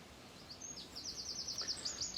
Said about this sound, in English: It doesn't detract from the sound of the birds or the beauty of the trees.